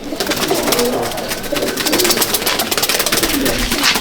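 Madrasi pigeons coo softly amid a busy, rustling background of many birds, a continuous close murmur with repeated low throaty calls and fluttering.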